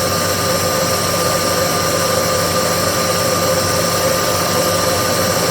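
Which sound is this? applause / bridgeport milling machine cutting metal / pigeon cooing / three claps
bridgeport milling machine cutting metal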